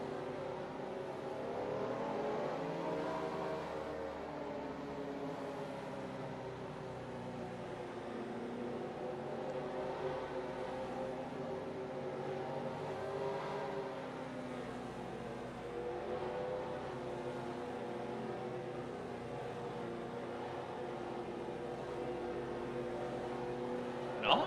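Steady, continuous drone of a NASCAR stock car engine in a racing video game, a sustained harmonic hum with slight pitch swells, holding at moderate loudness with no voices.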